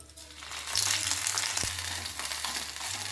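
Ginger and cumin paste fries in hot oil after dried red chillies, giving a steady close sizzle with a low hum underneath and one brief clink partway through.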